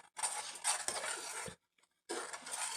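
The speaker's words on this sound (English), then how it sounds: "we're gonna leave it on the eye and keep stirring it" A spoon stirs maple apple oatmeal in a pot on a stovetop burner, scraping and clinking in two steady bursts split by a short pause.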